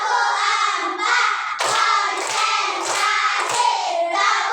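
Classroom of pupils performing a rhythmic clapping chant, voices chanting together in a singsong cadence, punctuated by several sharp, evenly spaced group claps.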